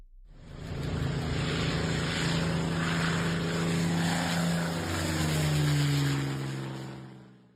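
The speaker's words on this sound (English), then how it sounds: "a German plane swoops down towards you, the terrifying scream of his engines filling the air." A German warplane swooping down during the Spanish Civil War, propeller engines roaring loud and steady for several seconds, the pitch sliding as it passes overhead.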